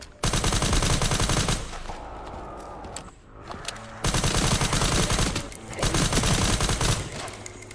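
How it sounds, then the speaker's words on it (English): Gunfire in the Resident Evil Requiem video game comes in loud, dense automatic bursts, a long volley, a brief lull with faint movement, then two more rapid strings of shots, close and dominant. "the shooting is fucking satisfying in this game"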